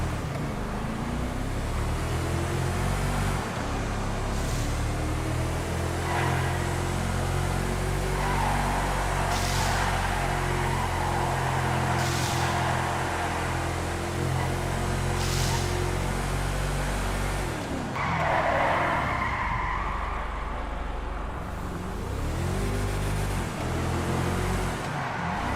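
A car test driven in a video game gives a steady engine drone with harmonic layers, rising and falling as the revs shift. It runs continuously for the whole stretch, loud and close, with a brief dip in engine note near the end.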